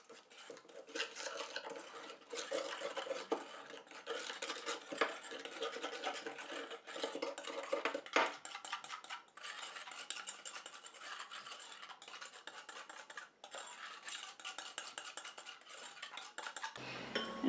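A spoon clinking and scraping in a small container while mixing a warm aqueous phase with bamboo beads for a scrub, quiet continuous rattling and tapping strokes, close and unhurried, no speech.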